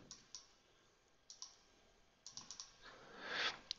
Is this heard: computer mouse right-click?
yes